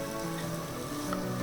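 Chopped carrot sizzles steadily in hot ghee with cloves, cardamom and cinnamon for ghee rice, a soft continuous frying crackle with no voices.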